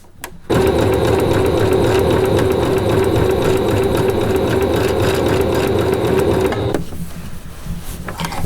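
A sewing machine stitches fabric around elastic in a fast, steady whirring run of about six seconds, starting abruptly and then stopping, leaving quieter handling noise.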